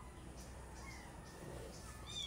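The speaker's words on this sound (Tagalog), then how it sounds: "Ito ang pusang gusto ko." A house cat with fine fur gives a brief, faint meow at the very end, heard quietly over low background noise.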